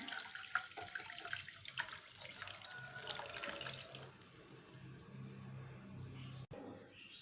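Tamarind water pours steadily into a pan of pepper rasam with a continuous splashing wash that gradually softens, ending with a brief clunk.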